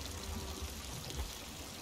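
Water pours and gushes into a leaking wooden ship in the video game Sea of Thieves, a continuous rushing splash at steady loudness.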